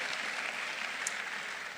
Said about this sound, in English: Go ahead and applaud your Canadian sisters because they have fought the fight.